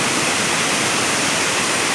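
A dense, unbroken rush of water pours at Kaigal waterfall in Chittoor district, loud and close throughout.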